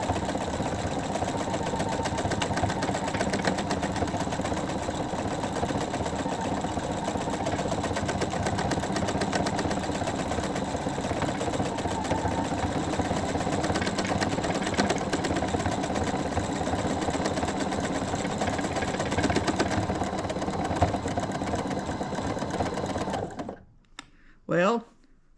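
Sewing machine stitching a small heart-shaped decorative pattern onto a crazy quilt square, running steadily and close for over twenty seconds before stopping abruptly, with a few brief sounds after.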